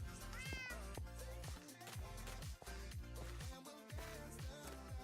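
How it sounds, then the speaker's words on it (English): A cat meows several times in Minecraft while a steady musical soundtrack plays underneath, the mews rising clearly above the game music. "It's another cat."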